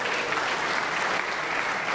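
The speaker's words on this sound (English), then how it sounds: "giving a hand of applause" A crowd at a DJ event applauds with a steady, full wash of clapping from many hands, sustained and even throughout.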